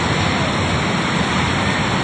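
Floodwater surges during a flood in Rasuwa, Nepal, as a loud, dense, unbroken roar of rushing water that fills the whole clip.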